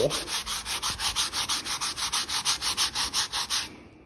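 A car body panel on a Ford AU Falcon is sanded down to bare metal by hand, with quick rhythmic back-and-forth rasping strokes, about five per second, close and steady, fading at the end.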